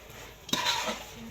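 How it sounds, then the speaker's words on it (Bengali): A spoon stirring khichuri made with chinigura rice in a cooking pot, a short scraping swirl that begins sharply midway over a soft sizzle, close and moderately quiet. "এখন সব কিছু মিক্স করবো।"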